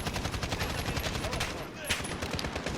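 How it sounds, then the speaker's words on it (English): A gun fitted with the Spetsnaz conversion kit firing full-auto in Call of Duty Modern Warfare, a rapid continuous burst of loud shots lasting nearly three seconds. "Let's try shooting this without controlling recoil."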